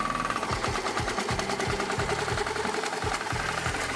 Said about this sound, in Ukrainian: Вмикаємо задню швидкість та починаємо косити.